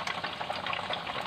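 Tofu frying in hot oil, a close, steady crackling sizzle with dense popping bubbles throughout a brief moment.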